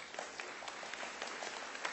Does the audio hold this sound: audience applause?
yes